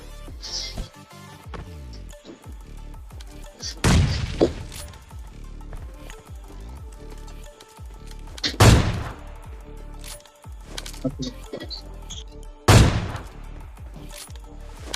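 Gunfire in the mobile game PUBG Mobile Lite, with three loud sharp shots spaced several seconds apart over a low game background and faint lighter clicks between them.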